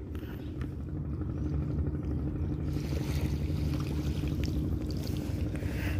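Boats and barges crowd the Tiền river, heard as a steady low engine drone and rumble with water wash close by, continuous and moderately loud.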